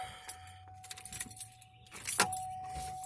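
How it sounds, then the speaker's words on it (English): Car keys jingle and scrape as the key goes into a Cadillac's ignition, with a steady chime tone running throughout and no click or engine start; one sharper rattle comes near the end. "It is what happens when you put the key in the ignition"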